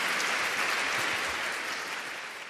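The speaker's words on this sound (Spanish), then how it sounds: "Un aplauso nuevamente para agradecer a la doctora Cristina Sánchez" Applause from a lecture audience for Dr. Cristina Sánchez after her presentation, a dense, steady clapping from many hands that fills the whole moment and tapers slightly at the end.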